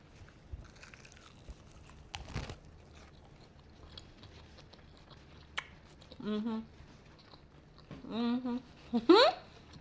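Someone bites and chews crunchy cherry sangria chicken wings fried naked, without cornstarch or flour: scattered crisp crunches and chewing, close up, with a few voiced murmurs among the bites.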